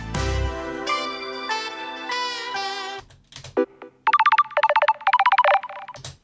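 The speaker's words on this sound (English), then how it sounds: "when you get a call in Starlight, this is the wee ringtone" Computer call ringtone from the video game Paradise Killer: a melodic electronic chime phrase that plays the game's theme, followed by a string of bright, rapidly repeating synthetic ringing bursts, clear and alone.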